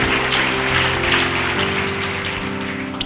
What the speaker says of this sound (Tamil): கைத்தட்டுங்க ஒருத்தவருக்கு.